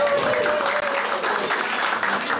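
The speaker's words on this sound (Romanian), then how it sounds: "Aplauze pentru Dan și Monica." Audience at a Romanian comedy summer show applauds steadily and loudly for the two people called up, a dense, even wash of clapping filling the whole stretch.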